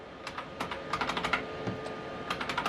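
Keys pressed on a vintage Pentium III PC keyboard, a run of crisp, close clicks in irregular bursts and short pauses, alone with no talking.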